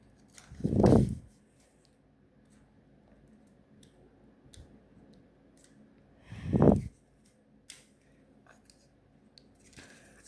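Paper creased and tucked while folding an origami gold dragon, with two distinct crinkling rustles about six seconds apart and faint ticks and handling noises between them in a quiet room.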